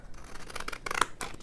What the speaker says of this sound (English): these are scallop shears, scissors. They are fabric scissors.